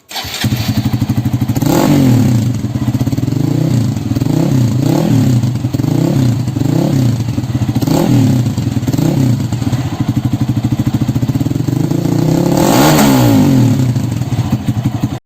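A Hero Xpulse 200 motorcycle fitted with an Akrapovic exhaust starts up and is blipped through repeated throttle revs, loud and close, with rhythmic rises and falls and a final bigger rev near the end.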